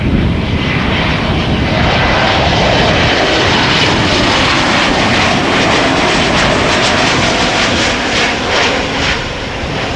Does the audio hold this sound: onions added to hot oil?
no